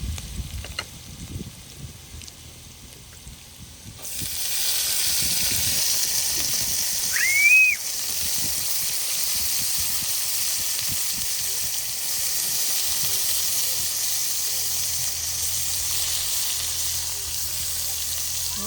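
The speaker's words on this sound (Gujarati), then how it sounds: "હવે આમાં ડુંગળી નાખી દઈએ" Chopped onion goes into hot oil already holding garlic and green chilli in a Gujarati village kitchen, setting off a sudden loud, steady sizzle that carries on without break after a few seconds of quieter rustling.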